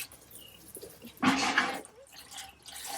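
Liquid coolant splashes from a 1978 Ford F100 onto the ground beside a bucket in a short, burst-like gush with faint drips before and after.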